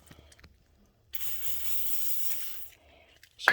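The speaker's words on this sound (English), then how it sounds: "Let's just get a little extra WD-40 on here." A WD-40 aerosol can sprays onto a Cadillac CTS-V emblem in one close, hissing burst lasting about a second and a half, set between quiet stretches.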